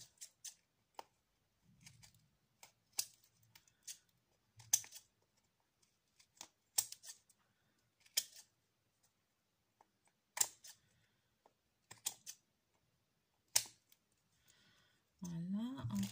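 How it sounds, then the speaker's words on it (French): Sharp scissor snips trimming excess ribbon on a handmade Christmas tambourine ornament, a dozen or so crisp isolated cuts with pauses between, close and quiet, with a brief rustle at the end. "maintenant, je vais couper ce qui dépasse un peu là"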